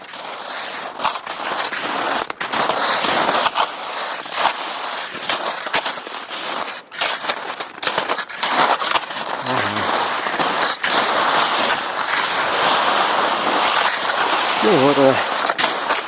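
Continuous scraping swish of skis gliding over crusted snow in taiga, with sharp crunchy clicks throughout and someone speaking briefly.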